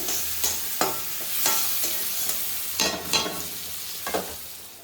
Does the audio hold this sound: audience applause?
no